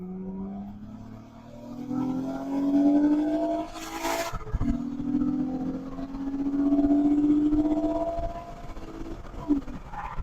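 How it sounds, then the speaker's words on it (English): A Honda Accord 3.5L V6 engine revs up hard under full throttle, pitch climbing through the gears with brief shifts, loud and close. "the true final test, of course, is gonna be a full throttle pull"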